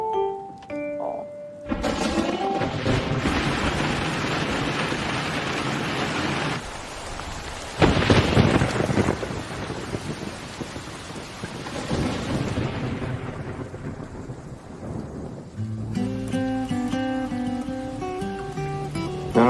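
Heavy rain pours steadily with deep rolling thunder rumbling through, a loud dense wash that swells midway and then eases to lighter dripping near the end, with no voices.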